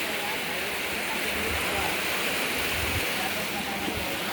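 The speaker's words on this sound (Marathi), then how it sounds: "मस्त धबधबा आहे" A waterfall roars in a steady, even rush of water, close by and unbroken throughout.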